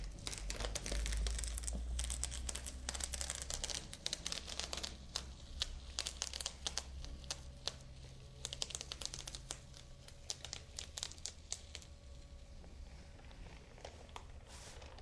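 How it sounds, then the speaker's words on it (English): Paper backing peeled slowly off vinyl letters applied to a wall with masking tape, giving soft crinkling and intermittent crackling tears close by, with no voices. "just slowly peel back your paper to make sure that you don't pull up any of your vinyl"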